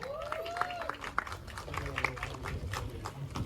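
Applause from the audience at an Indonesian film press conference welcoming the producer of Dusun Mayit, moderate crowd clapping heard beneath a host's amplified voice speaking over it.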